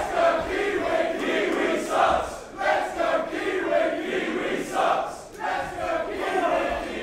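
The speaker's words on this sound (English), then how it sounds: "European uppercut by Ricochet as the crowd taunts Travis Banks" A wrestling crowd at a WCPW Loaded event chants in unison to taunt a wrestler, giving rhythmic, rising and falling waves of many voices that fill the arena.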